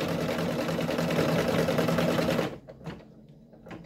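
A computerized embroidery machine stitching a design in rayon thread runs as a steady, loud whirring stitch rhythm, then stops abruptly, leaving faint clicks and small mechanical taps.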